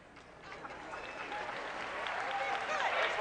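A good crowd at Rosenblatt Stadium applauds at a 1985 College World Series baseball game between South Carolina and Arkansas, with steady clapping that swells gradually while a broadcaster talks over it.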